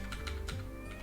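Quick, light tapping of keys on a computer keyboard while code is entered, a few close clicks over a steady electronic hum.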